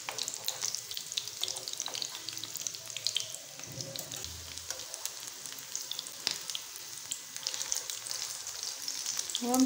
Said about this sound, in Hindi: अब ऑयल को अच्छे से गर्म कर लेना है, इसमें ऐड करते जाएंगे कबाब।